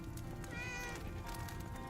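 A cat in the game Enshrouded meows, a short plaintive call heard close over steady low background ambience.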